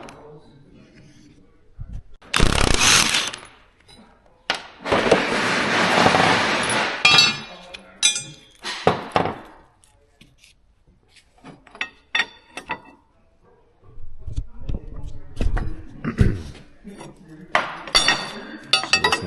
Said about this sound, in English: I've just got to stack our knives back on top of here